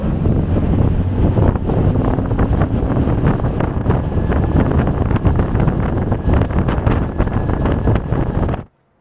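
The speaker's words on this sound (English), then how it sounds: "They're all running the new V10 platform outboard motors." A boat powered by a Mercury V10 four-stroke outboard runs at speed on open water, a loud, steady low engine roar mixed with heavy wind buffeting on the microphone and splashing hull noise, cutting off abruptly at the end.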